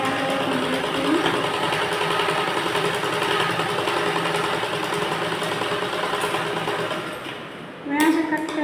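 A sewing machine runs steadily while stitching a blouse, a continuous mid-level motor whir that holds for about seven seconds, dips briefly, then resumes near the end.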